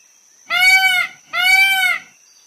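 A peacock gives two loud, nasal, wailing calls in quick succession, each lasting about half a second, clear and close with no talking.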